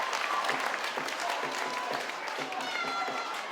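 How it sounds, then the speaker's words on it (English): Home crowd at a Keighley versus Oldham rugby league match cheering and clapping in a steady roar, heard from the stands with broadcast commentary running over it. "That's got the home crowd going."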